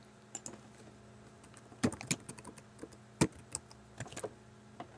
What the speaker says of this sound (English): So for oceanography, I would type in Garrison,